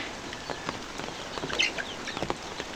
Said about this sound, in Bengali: বাঁশের তলে দেখেন কতগুলো মুরগি